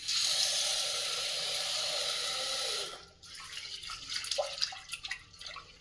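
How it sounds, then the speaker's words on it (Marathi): Chana dal being rinsed in water in a pressure cooker pot for puran poli: a steady close stream of tap water pours for about three seconds, then gives way to softer, irregular sloshing and swishing as the lentils are washed. "स्वच्छ दोन ते तीन वेळेस पाण्याने आपण स्वच्छ धुवून"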